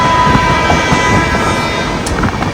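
A passenger train on the Somnath to Mumbai route rolls through a station without stopping, giving a steady, close rumble and clatter with a faint high whine.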